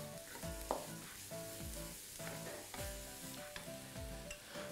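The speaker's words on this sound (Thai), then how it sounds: "รากผักชีกระเทียมผัดให้หอมใส่หอมแดงฮะ" Coriander root, garlic and shallots fry in a pan with a steady close sizzle, broken by clinks and scrapes of stirring, while music plays alongside.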